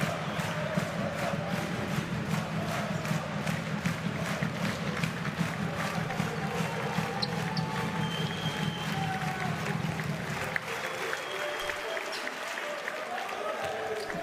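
Large basketball arena crowd cheering and applauding at a Hapoel Holon versus Pinar Karsiyaka Champions League game, a dense sustained roar of many voices with clapping that drops away sharply near the end.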